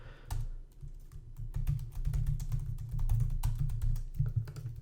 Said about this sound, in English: We'll type something else out here.